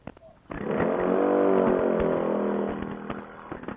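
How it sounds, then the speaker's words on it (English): Honda Ruckus scooter engine revving hard for a burnout, a buzzing single-cylinder whine rising and held for about two seconds before easing off, fairly close and with no talking over it. "Burnouts for Jesus."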